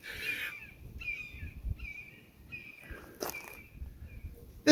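A crow caws several times in a run of harsh calls, moderately close and fairly loud, over quiet outdoor background with faint rustling and a sharp knock near the end.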